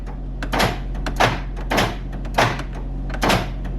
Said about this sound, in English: the most satisfying door lock and unlock sound ever